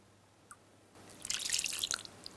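Organic soy milk pours into chocolate beet cake batter in a soft, close liquid stream lasting about a second and a half after a quiet start.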